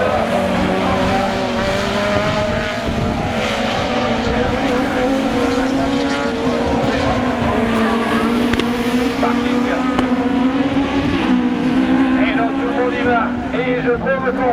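Rallycross race cars including Renault Twingo and Clio models racing at Lessay, engines droning and revving continuously at high pitch with wavering tones, while a commentator talks over the noise.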